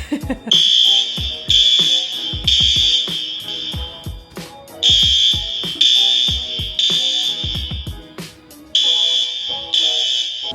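Loud, repeating electronic fire alarm tone from a test at a dental office, sounding in bursts with brief gaps, nearby, while clattering and a voice occur underneath.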